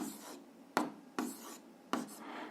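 A pen scratches out a maths expression on paper in four quick bursts of writing separated by brief pauses, close and fairly soft.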